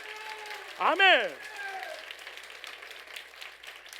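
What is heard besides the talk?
church congregation applause for the Lord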